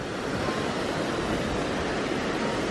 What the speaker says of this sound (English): So you can see the waterfall coming down.